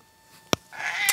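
After a sharp click, a pet cat lets out a short, bright meow that swells and trails off, close by in a quiet home.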